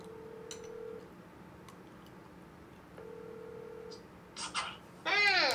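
Phone dialing to place a call during a Minecraft server stream: two long steady tones with faint ticks, then a short rising chirp and a bright burst of ringing tones at the end, no speech.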